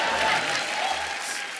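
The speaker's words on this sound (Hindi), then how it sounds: "ये बजा दो यार, तालियां बजाओ।" A studio audience at a televised comedy show applauds steadily in a continuous wash of hand claps with crowd noise and some voices underneath, holding level throughout.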